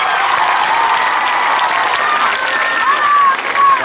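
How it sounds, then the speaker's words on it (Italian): Audience applause on a summer camp closing evening: loud, continuous clapping from a large crowd, with some whistles and voices mixed in. "Un grazie e un applauso speciale ad Ambra."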